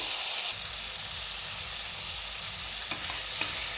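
Tomatoes fry in a salted pan with a constant close sizzle, broken by a few light knocks of a spoon toward the end.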